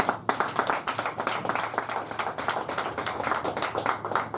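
Audience applause at a press conference for an album release, hands clapping in a lively, uneven patter with distinct sharp claps standing out, sustained and fairly close throughout.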